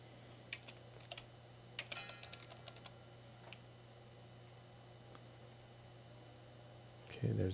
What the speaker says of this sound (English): I'm not very fond of typing.